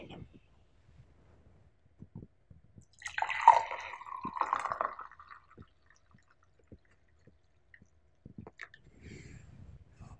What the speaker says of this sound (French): il ne nous reste plus qu'à verser votre unicorn latte